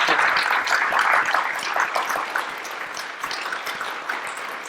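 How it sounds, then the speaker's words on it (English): An audience gives warm applause at the close of an evening conversation event, a dense, even patter of many hands clapping, steady and fairly loud, easing slightly toward the end with no talk over it. "round of applause?"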